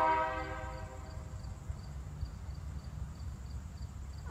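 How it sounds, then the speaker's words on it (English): A train passes near a home, a horn sounding briefly at the start before a low, steady rumble of rolling cars continues at moderate distance. "That's what it's like to live near a train."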